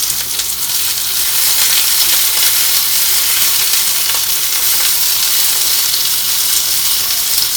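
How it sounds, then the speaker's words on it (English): Green beans spread flat in a hot pan for a Sichuan sauté blister with a loud, steady, close sizzle and crackle of oil that holds without pause, with no talk. "make sure the green beans on a flat layer on the bottom of the pan, so you can like create some blister on the surface of the green beans"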